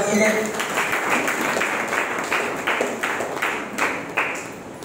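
Church congregation clapping during a Sunday worship service, a dense run of handclaps with sharper bursts spread across the stretch, under a steady wash of room noise.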